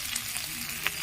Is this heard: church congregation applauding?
no